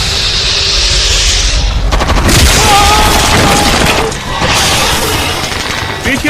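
Heavy gunfire during a fierce battle: loud, dense bursts and booming shots pile up over a constant roar, with no let-up.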